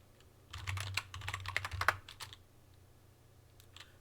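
Fingers tap out a command on a computer keyboard in a quick, uneven run of close, quiet clicks lasting about two seconds, followed by a pause and a few scattered keystrokes.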